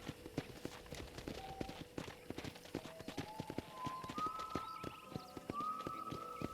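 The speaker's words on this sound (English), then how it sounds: "let's see if you can still ride a horse. This is not the horse you'll start with. This is again a special horse. This is the war horse." A war horse gallops in Red Dead Redemption, with rapid rhythmic hoofbeats on the ground, a few rising tonal game sounds layered over them, and a faint voice in the background.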